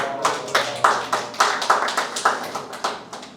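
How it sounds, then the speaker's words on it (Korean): A church congregation gives a short burst of applause, a dense run of close, even hand claps that keeps a lively steady rhythm for a few seconds with no voices over it. "박수"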